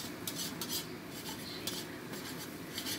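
Metal utensil scraping and tapping in a pan as egg is stirred and broken up for nasi goreng, a steady run of short clinks and scrapes close by, with no talk.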